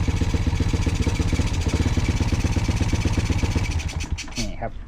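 A Honda Wave motorcycle engine idles with a loud, rapid clattering putter close by, rising into a few brief revs near the end.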